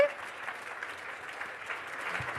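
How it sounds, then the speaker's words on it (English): Audience at a 2023 awards ceremony for the Australian Centre for Disease Preparedness claps, a soft, fairly distant patter of applause holding steady for a couple of seconds. "Round of applause."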